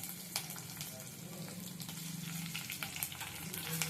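Green chillies frying in a pan, a soft continuous sizzle with small crackles and light pops, fairly quiet and close.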